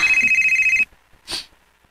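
A telephone rings close by with a rapid electronic trill that cuts off after under a second, followed by a brief faint sound and then quiet.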